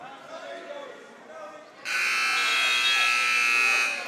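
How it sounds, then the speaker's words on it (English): A scoreboard buzzer sounds by mistake at a high school wrestling championship match, a loud steady electronic tone of about two seconds that cuts in sharply after a stretch of quieter gym noise and commentary. "Errant buzzer there."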